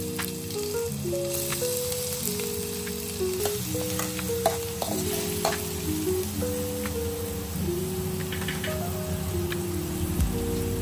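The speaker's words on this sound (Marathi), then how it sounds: "आता यात टाकूया चॉप केलेले अद्रक लसूण" Chopped ginger and garlic sizzle in hot oil in a kadhai for a sprout chilli dish, with a soft, steady frying crackle beneath a louder melodic music track.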